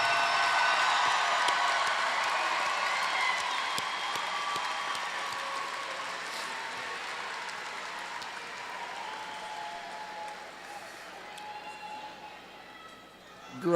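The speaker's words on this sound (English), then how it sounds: "One more round of applause for the class of" Sustained applause from a graduation audience at a 2019 community college commencement, a broad steady clatter of many hands filling the hall and slowly tapering toward the end.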